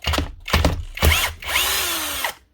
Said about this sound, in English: Be careful of these here screws if you're taking them out with a drill like I am.